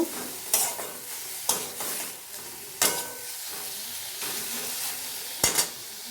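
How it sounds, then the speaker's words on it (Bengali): Thor (banana stem) bharta being stirred and dried with spices in a pan, a steady sizzle broken by about five sharp scraping strokes at irregular intervals, close and fairly loud, with no voices. "এইভাবে না নেড়ে নেড়ে আমি এটাকে শুকনো করে নেব"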